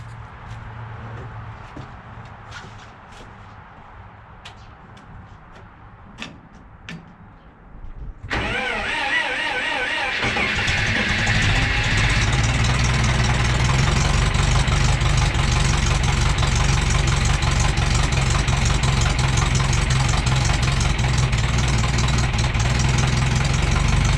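A farm tractor engine on a frigid hobby farm sits quiet at first, then cranks and catches around eight seconds in, settling into a loud, steady, rumbling warm-up idle close by with no talk.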